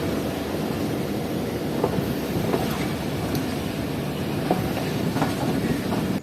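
Allama Iqbal Express passenger train running through rain near Narowal Junction, Pakistan, a steady broadband rumble of carriages on the rails with faint clicks of wheels over joints, sustained and close throughout.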